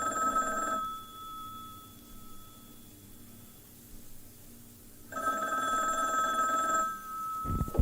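A telephone rings on a 1971 album track: two bursts of bright, trilling bell rings split by a quiet gap of several seconds, loud and up front with no voices.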